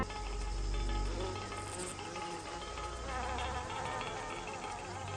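Robber flies and other flies in a garden give off a continuous droning buzz with a constant insect hum, steady and fairly close, with no voices.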